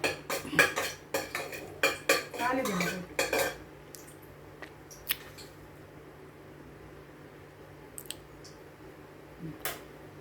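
A spoon clinks and scrapes rapidly against a pan while stirring tempering spices such as bay leaf and cloves for a few seconds, then quiets to a faint sizzle with occasional light taps.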